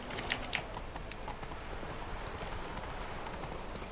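Roach, the horse in The Witcher 3, clip-clops along at a steady walk, hoof taps repeating evenly and fairly near over a constant bed of ambient game noise, with no talking.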